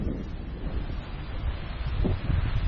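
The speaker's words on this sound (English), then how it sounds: "It's super windy here today." Strong wind gusts buffet the microphone outdoors in a potato garden, a continuous loud low rumble that swells toward the end, with no one speaking.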